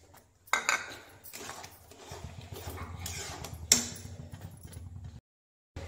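A metal spoon scrapes and clinks against a pan while stirring pav bhaji, close and uneven with a few sharp knocks among softer scraping strokes, no one talking, ending abruptly.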